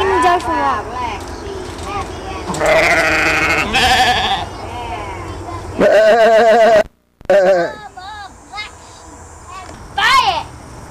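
Several sheep bleat close by at a zoo in bursts, some long and wavering, with a voice and other talk mixed in between the calls.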